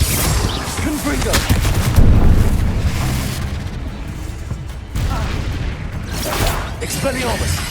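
Spell blasts in Hogwarts Legacy, a dense, loud barrage of booming impacts and crackling bursts that overlap continuously, with a brief dip midway before the explosions resume.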